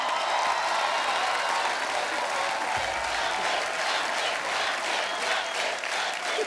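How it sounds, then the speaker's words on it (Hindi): Steady, dense applause from a large TV comedy show studio audience fills the whole stretch, loud and continuous without a break. "रणबीर के लिए जोरदार तालियां"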